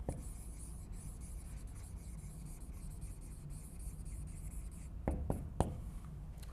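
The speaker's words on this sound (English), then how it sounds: "look how long it takes me, even if I write fast, to write that word" A pen scratches steadily across paper as a long word is handwritten quickly for notes, close and faint over a low room hum, ending with a few sharper taps.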